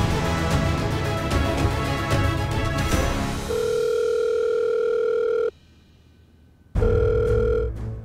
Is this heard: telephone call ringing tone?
yes